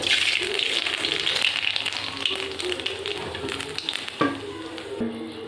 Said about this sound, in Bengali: কড়াইতে দিয়ে দেবো কালো জিরে,